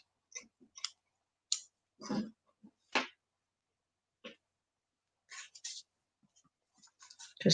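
Craft material for a journal is trimmed with a few scattered snips and soft scraping clicks. They come in irregular bursts separated by quiet pauses, close by and fairly faint.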